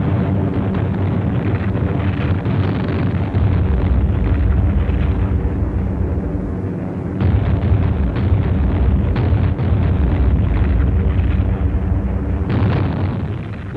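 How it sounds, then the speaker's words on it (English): Heavy explosions from U.S. air attacks on Japanese-held airfields near Manila during the 1945 Luzon campaign rumble continuously as a loud, dense, low roar of overlapping blasts in old wartime film audio, with no speech. "Heavy U.S. air attacks were made daily on airfields near Manila."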